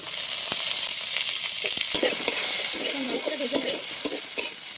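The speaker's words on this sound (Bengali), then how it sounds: "রসুন আর পেস্টটা হালকা করে ভেজে নিয়েছি" Garlic, chili and chopped onion frying in hot oil in a pan, giving a steady, close sizzle with scraping stir sounds throughout and no talking.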